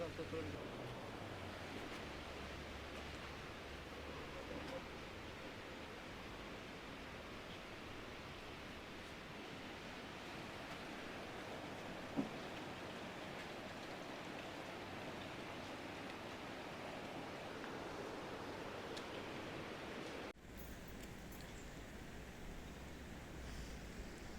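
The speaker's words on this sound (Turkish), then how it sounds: "yine yağmurlu bir gün" Steady broadband hiss of rain falling, continuous and even throughout, with a brief shift in tone near the end.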